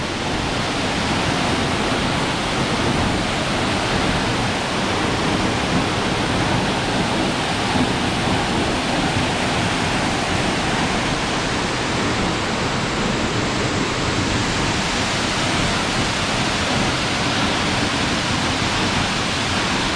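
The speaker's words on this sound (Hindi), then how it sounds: "ये फाइनली हम वाटरफॉल तक आ गए हैं।" Ramboda Falls in Sri Lanka's Ramboda Pass pours down in a loud, dense, unbroken roar of rushing water, close and constant throughout.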